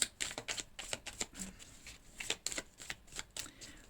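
A deck of tarot cards is shuffled and handled, giving a run of quick, close riffling and flicking bursts in an irregular rhythm, soft and alone without talk.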